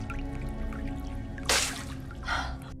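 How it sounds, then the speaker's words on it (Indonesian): Water drips in a still, enclosed space, two distinct splashy drops standing out over a steady low hum, fairly close and otherwise quiet. "dia melihat tetesan air"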